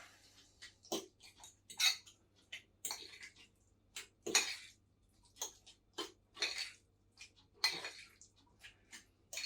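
A spoon stirs milk into thick overnight oats in a bowl, giving a run of wet, sticky scrapes and light clinks against the bowl in an irregular rhythm, close and fairly quiet.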